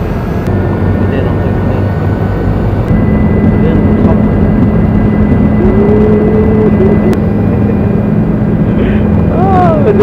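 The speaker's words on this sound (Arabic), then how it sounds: "بدينا نطير يا جماعه." Steady, loud airliner engine roar fills a passenger cabin during takeoff, a continuous broadband rumble with a low drone that steps up partway through, while people talk faintly underneath.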